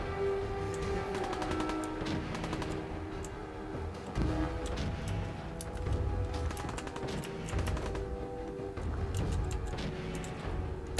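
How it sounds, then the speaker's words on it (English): Gunfire rings out in a Fallout 4 firefight, with repeated sharp shots and bursts arriving in clusters over a busy, rumbling game soundscape for several seconds. "I just knew I was getting shot at, and I had to shoot back."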